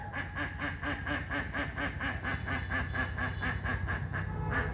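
A duck quacks rapidly and repeatedly in a steady, rhythmic run of loud, nasal calls that continues throughout, near a pond in Monpura, Bhola.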